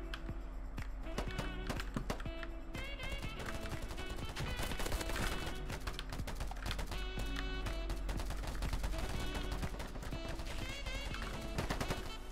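Rapid bursts of gunfire from the shooter game Polygon come in dense repeated volleys with sharp cracks, loud and continuous through most of the stretch.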